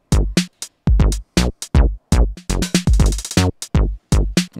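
A drum and bass pattern of kick, snare, hi-hat and bass runs loud and punchy, with tight, choppy hits and a fast hi-hat roll partway through, no voices.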